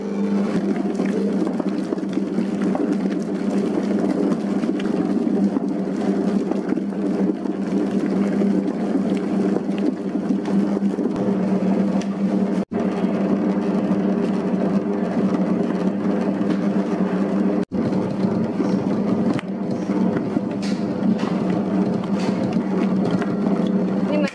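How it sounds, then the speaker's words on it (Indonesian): A bread dough mixer runs steadily, kneading pandan white bread dough with salt and butter for about 24 seconds, giving a continuous low motor hum and churning at constant loudness with two brief dropouts. "Nyalakan mesinnya, lanjut mengadon sampai betul-betul kalis."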